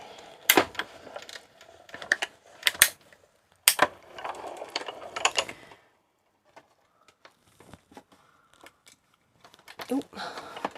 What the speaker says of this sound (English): I'm just going to take that through to the die cut machine and roll those through.